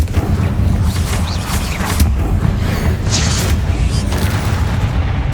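Confringo fire-blast spell explosions in the Hogwarts Legacy video game, loud booming blasts with crackling bursts over a dense game soundscape, a voice calling out briefly.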